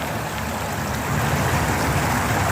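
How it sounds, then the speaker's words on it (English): The River Char flows beneath a road bridge near Charmouth, giving a steady, broadband rush of moving water that holds at an even, moderately loud level throughout, with no voices. "there is the River Char."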